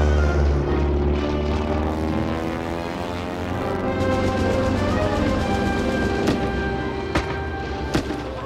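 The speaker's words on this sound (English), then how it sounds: "German plane over the field!" A German propeller plane flies over a field, its engine drone filling the scene with a sustained, loud buzzing hum and a few sharp distant bangs near the end.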